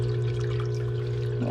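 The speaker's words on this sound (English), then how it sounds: "let's cut the water flow to it." Water runs steadily through a sluice box during a gold clean-up, a continuous close pouring wash with a steady low hum underneath and no talking.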